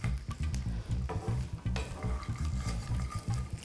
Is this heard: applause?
no